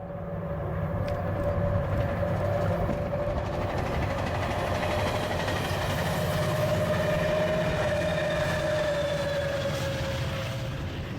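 A Rail Runner 704 passenger train passes a trestle bridge in Bernalillo, a continuous loud rumble with a droning engine tone and faint wheel clatter, holding steady and close for about eleven seconds with no talk.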